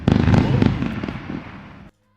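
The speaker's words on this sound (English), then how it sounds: "We're not gonna forget about the fireworks bust." A fireworks sound effect set off as a celebration during a live trading stream, a dense burst of booms and crackles that fades over about two seconds before cutting off.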